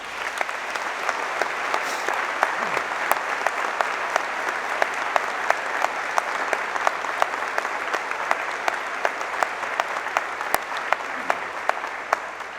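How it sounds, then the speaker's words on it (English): An audience at a criminal justice studies event applauds steadily and evenly for a dozen seconds, with scattered louder individual claps standing out against the dense, mid-level patter. "I'd like you to give her a round of applause"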